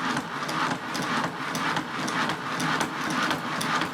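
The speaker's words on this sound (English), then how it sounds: "creating the sort of reciprocating action that I wanted" Homemade motorised chisel sharpening machine running with a steady reciprocating action, giving a continuous mechanical clatter with rapid repeated knocks and a busy whirring motor, close and fairly loud throughout.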